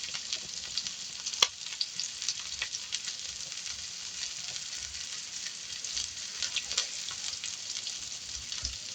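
Onions toast in a pan over a continuous, bright, close sizzle, with a sharp clink from stirring early on and scattered small pops throughout. No voices can be heard.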